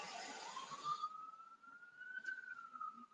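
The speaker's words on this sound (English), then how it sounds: "It's been on and off sirens, bro." A distant emergency vehicle siren wails in the city, one long rising tone that holds steady, faint and alone with no talk.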